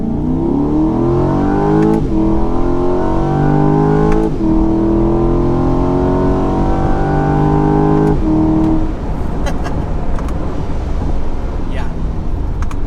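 Chevrolet C8 Corvette Stingray Z51, mid-engine, floored in second gear from low speed, engine note climbing steadily to a loud rasping rev with quick shifts and dips; close and loud, continuing as a rougher engine roar afterward.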